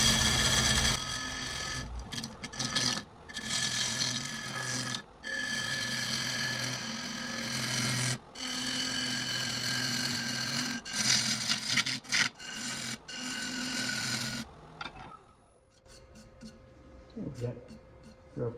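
Bowl gouge cutting a segmented wooden checkerboard bowl on a lathe, a steady rough scraping drone in long passes broken by brief pauses, ending in quieter, sparser cutting.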